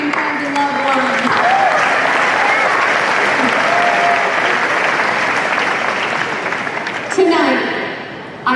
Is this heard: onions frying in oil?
no